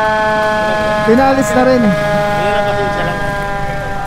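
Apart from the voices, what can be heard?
fire truck siren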